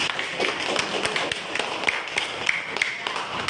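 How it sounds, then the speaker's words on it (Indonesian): A small audience claps in scattered, fairly faint applause, with separate sharp hand claps spread unevenly across a few seconds. "Berikan tepuk tangan"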